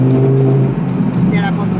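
A Lamborghini Huracán Performante's engine drones loud and steady from inside the car as it drives, with a deep sustained note that shifts slightly in pitch.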